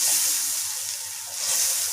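Ground masala for beef karahi sizzles steadily in hot oil as it is stirred, a close, continuous hiss that swells, dips briefly, then rises again.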